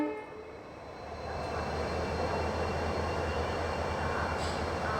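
A train pulling out of Pune Junction, a loud continuous rumble of rolling wagons and wheels that builds after the first second and holds steady, with a brief high squeal near the end.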